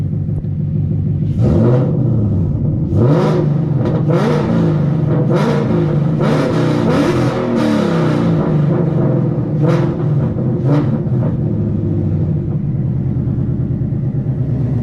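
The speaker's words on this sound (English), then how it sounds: "Go ahead and give it a couple revs" A Ford Mustang engine revs repeatedly in the snow over a steady rumbling idle, each burst of throttle rising and falling, loud and close.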